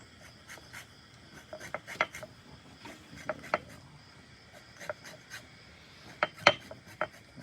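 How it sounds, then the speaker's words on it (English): Lemon zest grated by hand off a lemon over the kitchen prep space, giving faint, scattered rasping scrapes in short irregular bursts, soft and close, with no voices. "So I'm going to get some lemon zest here."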